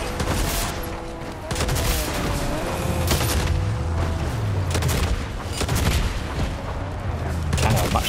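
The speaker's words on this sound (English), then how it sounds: "It's their grenades that are causing us damage." Grenade explosions and gunfire in a Fortnite match, several booming blasts rising over a constant layer of shooting and game noise, with voices of players talking now and then.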